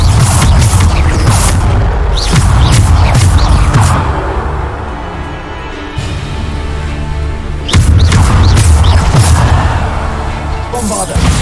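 Bombarda spell blasts in Hogwarts Legacy come as loud, booming bursts in two clusters, heavy rumbling explosions with a dense, crackling spread, separated by a quieter rumbling stretch.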